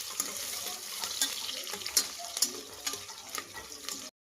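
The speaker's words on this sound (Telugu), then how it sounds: "ఉల్లిపాయ అనేది బాగా ఫ్రై అయ్యేంత వరకు అయితే ఫ్రై చేసుకోవాలి." Onions frying in a hot pan give a steady crackling sizzle with scattered sharp pops and stirring clatter, moderately loud, with no talk over it.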